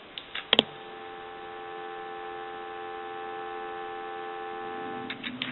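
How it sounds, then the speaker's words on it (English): A steady telephone dial tone hums from a Pepsi Cola telephone under repair, continuous and even for several seconds, bracketed by sharp handling clicks at the start and end. "Go ahead and give you some dial tone."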